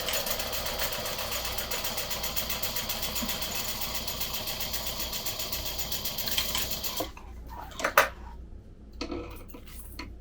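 Sewing machine top stitching a mesh pocket 1/8 inch from the edge, a steady fast mechanical whir for about seven seconds, then stopping, followed by a few faint clicks and handling taps.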